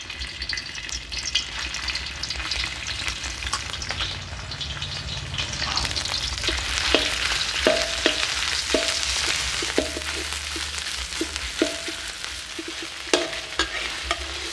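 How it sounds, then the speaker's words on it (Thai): Red curry paste stir-fried in vegetable oil over low heat for fried catfish, a steady close sizzle with repeated scraping stirs of a spatula against the pan, no talking. "ผัดไฟอ่อนๆ ผัดไปเรื่อย ๆ จนพริกแกงหอม"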